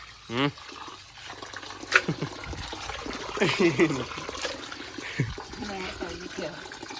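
Raw chicken rinsed by hand under a running kitchen tap while cooking chicken biryani, water splashing and trickling steadily at close range beneath people talking.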